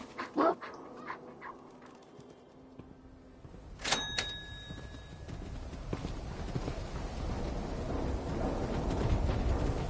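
Dogmeat, the dog companion in a modded PS4 game, gives a few quiet barks and whimpers over a soft clip-clop and faint background rustle, with one sharp bright burst partway through.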